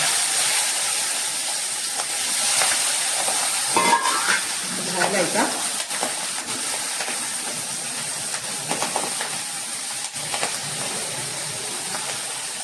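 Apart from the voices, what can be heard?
Marathi phodni tempering sizzling as chillies and curry leaves are added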